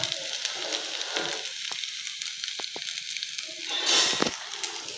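Shrimp frying lightly in a pan for a simple bachelor-style dish: a steady, close sizzling hiss runs throughout, with a few sharp crackles and a brief louder burst near the end, and no voices.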